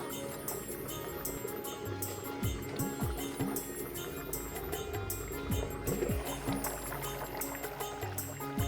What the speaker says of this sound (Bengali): ঝোলের বলকানির টকবক শব্দটা শুনেই খেতে ইচ্ছে করছে